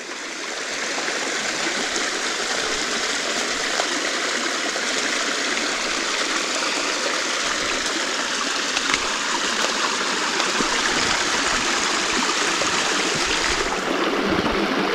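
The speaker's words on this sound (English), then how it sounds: "Water just comes down in steps." A woodland stream cascades down a series of rock steps, giving a loud, steady, broadband rush of water that holds constant from start to finish with no voices.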